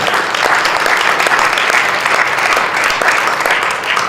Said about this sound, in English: That deserves another round of applause.